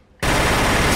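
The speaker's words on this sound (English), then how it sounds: "Why are you shooting this guy?" A gunfire sound effect from an animated vampire action comedy erupts suddenly out of near silence into a loud, harsh, continuous burst of rapid fire that fills the rest of the moment.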